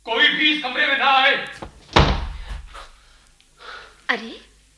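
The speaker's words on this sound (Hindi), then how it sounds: "इस तरह इतनी जोर से दरवाजा बंद क्यों किया?" A door slams hard with a single sharp, loud bang, preceded by a voice and followed by a gasp and heavy breathing in a radio play scene.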